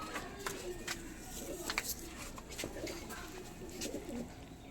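A Madras pigeon coos softly at a distance over faint background noise, with a few low murmuring calls spread across a few seconds.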